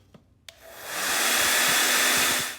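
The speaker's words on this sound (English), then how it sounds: "I'm gonna use the wife's hair dryer and warm this pocket up" A household hair dryer clicks on and warms the aluminum bearing pocket of a Black and Decker 507 being rebuilt. It rises quickly into a loud, steady, close whooshing blow after a couple of soft clicks.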